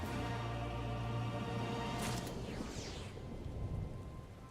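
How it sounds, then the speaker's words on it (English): Steady rain with a low rumble of thunder in the game Final Fantasy XIV, a continuous hiss that builds into a rolling crack midway before settling back to a softer downpour. "I'm hearing thunder sounds."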